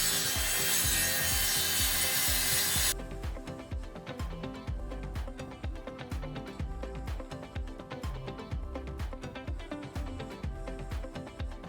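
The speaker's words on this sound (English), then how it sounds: "just cutting off with the power saw the box itself" Power saw cutting through the laminated box of a caravan oven: a bright whine at first, then a rapid rasping, chattering cut of steady rhythmic strokes, close and continuous.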